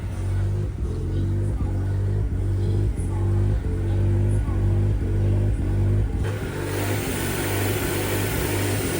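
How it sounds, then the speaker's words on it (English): A Subaru Vivio engine with its check engine light on misfires and runs rough, giving an uneven, pulsing low idle with rhythmic stumbles close up, then a brief change in tone near the end. "Thing is gasping for air right now."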